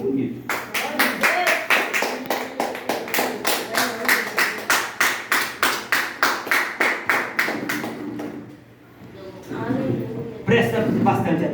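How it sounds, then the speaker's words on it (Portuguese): A church congregation claps in steady rhythmic unison for several seconds, loud and close, then pauses briefly before the clapping resumes. "Se você puder aplaudir o Senhor, vai ser bonito."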